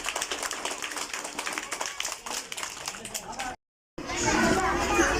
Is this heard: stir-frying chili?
no